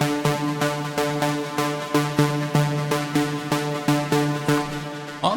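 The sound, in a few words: Serum synth pluck with filter cutoff automation in drop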